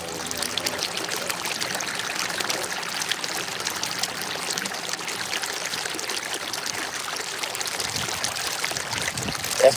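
Water rushes steadily through a gold prospecting sluice, a continuous moderate trickling flow for the whole stretch with no clear talk over it.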